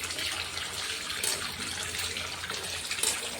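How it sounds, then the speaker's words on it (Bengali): Running tap water pours steadily over raw chicken being rinsed in a sink, a continuous close splashing gush with a few brief louder spatters, no voices. "জল দিয়ে উপরে উপরে ধুয়ে নেব, তারপর ভালো করে ধুয়ে নেব।"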